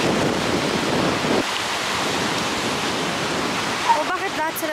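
Rushing roar of surf and breaking waves, steady and loud, with wind noise, light drizzle and a brief voice partway through, at a scuba diving site.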